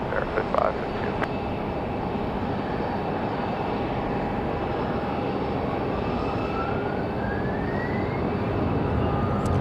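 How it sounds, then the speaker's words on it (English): A CRJ regional jet taxis at Raleigh-Durham airport on a windy day, its engines giving a steady, distant rumble and whine with a slowly rising tone, under constant wind noise. "You guys can hear that CRJ on the move."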